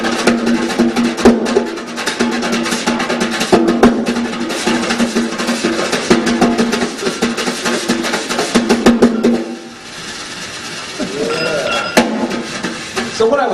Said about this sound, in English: Now Sandman would sound something like this.